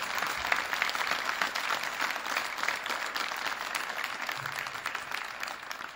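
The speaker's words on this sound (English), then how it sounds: "Let's give them one last round of applause." Steady applause from an audience at a high school honors night, dense continuous clapping that stays loud and even throughout without speech.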